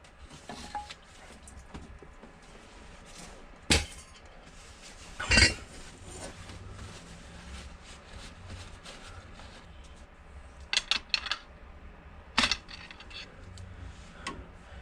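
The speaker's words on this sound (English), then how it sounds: "I just grabbed onto this nipple here with my favorite pliers, and then I used the pry bar to just pop it out" Pliers and a pry bar working a hose nipple off an oil cooler on a Powerstroke bus engine, sparse sharp metallic clanks and clicks, a few isolated hits and a quick cluster, over quiet background.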